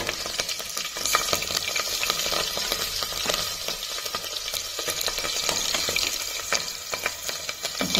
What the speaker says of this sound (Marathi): कढीपत्ता, त्यानंतर हिरव्या मिरच्या घातलेल्या आहेत आपण मोठे तुकडे केलेल्या आहेत